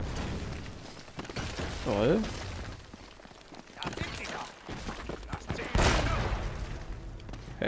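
Gunshots from Uncharted 4: A Thief's End, sharp game-weapon cracks scattered through a busy mix with someone talking over them, including a louder burst near the end.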